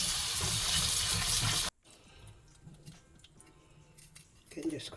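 Running water at a kitchen sink as fruit is rinsed, a steady loud rush of tap water that cuts off abruptly, followed by quieter handling noises and faint splashes.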